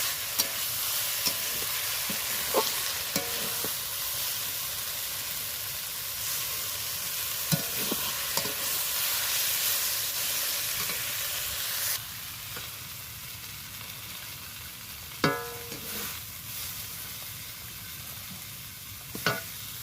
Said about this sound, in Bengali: শাক ভাজা আমার হয়ে গেছে আমি নামিয়ে নেব